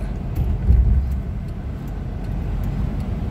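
A Maruti Suzuki Alto 800 on a city drive, heard from inside as it accelerates: a low, steady engine hum and road rumble, fairly loud and continuous, with no voices.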